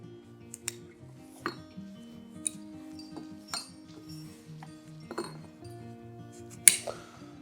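Metal climbing carabiners clink sparsely and lightly while a traditional climbing anchor is rigged, with scattered bright taps and one sharper clack near the end over a soft background hum.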